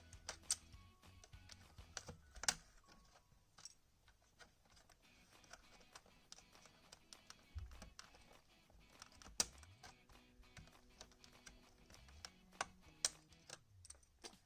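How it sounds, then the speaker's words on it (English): Keys are pried off a 2003 Apple A1048 keyboard, giving scattered sharp plastic clicks and snaps at uneven intervals. Soft low scraping and handling noise fill the quiet between the clicks. "That is how you remove keys from the Apple A1048 keyboard."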